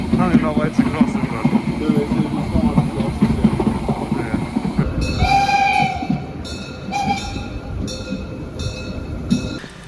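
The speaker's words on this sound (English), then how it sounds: "Steam trains are cool." A steam train passes close by with a heavy rumble, then sounds a series of shrill whistle blasts in short bursts, while people talk nearby.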